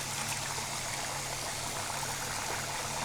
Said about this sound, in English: This is my sink over here. You turn on the water,